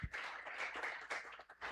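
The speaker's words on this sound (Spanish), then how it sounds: "Dele un aplauso a Cristo." A church congregation claps and applauds together, a steady dense patter of many hands at moderate level, rising and falling slightly across the short burst.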